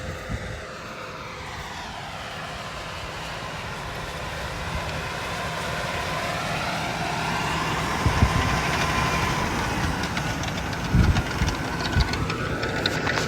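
A tractor engine runs continuously at close range, a broad steady drone whose pitch slowly rises and falls as it works, with no voices.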